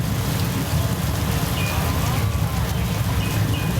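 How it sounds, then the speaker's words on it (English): Artificial rain pours onto an outdoor backlot film set at Universal Studios, a dense, steady hiss of falling water spattering on the ground, fairly loud and continuous with faint distant background noise. "If you're taking pictures right now, you may notice that the rain is hard to pick up on the camera."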